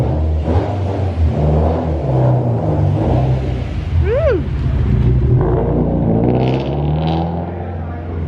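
A car engine roars loudly nearby with a sustained rumble and rising revs, while a voice whoops and talks briefly over the noise.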